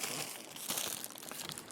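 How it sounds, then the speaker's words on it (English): Heavy-duty waterproof plastic biohazard body bag with a zipper being handled, giving a steady close crinkling and crumpling of thick plastic that runs throughout without pause. "body bag, like a biohazard body bag with a zipper on it"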